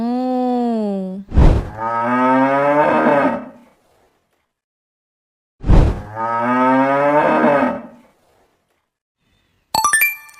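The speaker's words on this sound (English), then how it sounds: "This is cow. Cow says" A cow moos loudly and close by, two long, drawn-out lowing calls with a pause between, each rising and then falling in pitch, followed by a brief bright jingle.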